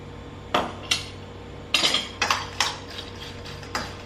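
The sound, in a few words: mixing sweet corn salad with lemon in a bowl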